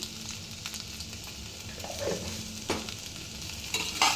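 A spoon stirs a frying soybean mixture in a pan, giving soft scraping and shuffling over a low steady sizzle, with a few sharper clinks of utensil against the pan.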